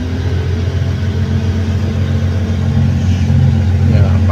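A Komatsu HD785-7 dump truck's engine rumbles loudly and steadily at close range, holding a deep, continuous drone with a slight rise toward the end as it is throttled up.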